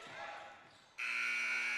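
A loud, steady buzzer blares at the end of a period in a boys' JV high school basketball tournament game, cutting in sharply over gym crowd noise and an announcer's commentary.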